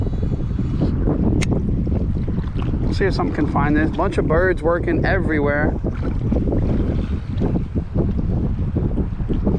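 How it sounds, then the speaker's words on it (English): Strong wind buffets the microphone in a constant roar while a man wade fishing at the Texas City Dike speaks over it, and a bird's chirps rise briefly in the middle. "it's just too windy to cast back that way"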